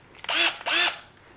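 Handheld power drill spinning in two short whirring bursts with a brief pause between them, close and loud, during launch pad maintenance.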